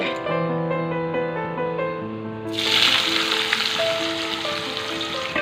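Chopped onions go into hot oil with a fried tempering of bay leaf and whole cardamom for Bengali-style chicken curry. A loud, steady sizzle bursts in about halfway through, over a continuous musical background.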